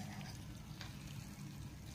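Rice with sesame seeds frying in a pan gives a quiet, steady sizzle and crackle with faint stirring, continuous and close, with no talk.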